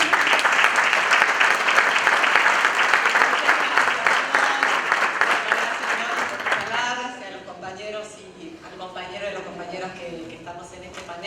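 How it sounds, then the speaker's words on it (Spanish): A conference audience at a Buenos Aires labor congress panel on culture gives a warm round of applause for a provincial cultural policy official. The clapping is loud and full, then fades after about six seconds as a voice begins speaking. "La recibimos con un fuerte aplauso"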